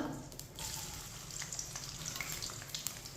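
Finely chopped onions fry in a pan with whole cumin and whole coriander seeds in oil for chana dal, giving a steady, soft sizzle with crackly pops scattered throughout, heard up close and alone.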